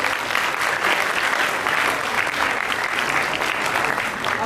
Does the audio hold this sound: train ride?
no